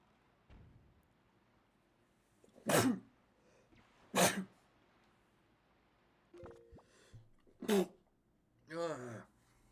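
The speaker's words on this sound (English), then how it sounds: "I apologize for sneezing rather profoundly into the microphone." Several sharp sneezes burst close into a microphone, four loud spaced explosions with a short throaty sound at the end, against near silence otherwise.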